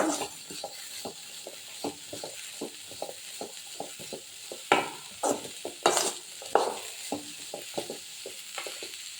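Bitter gourd pieces are stirred and fried in a hot pan, with a spatula scraping and tapping in an irregular rhythm over a soft sizzle, close and alone.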